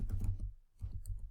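Typing on a computer keyboard, two short bursts of quick, close key clicks separated by a brief pause.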